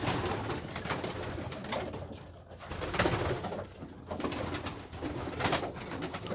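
Pigeons in a loft coo and call steadily from close by, with soft rustling and movement as birds settle onto a new perch, with no talk.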